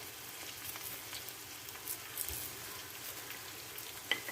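Hot coconut oil sizzles in a pan, a faint, steady crackling hiss with a few scattered sharper pops.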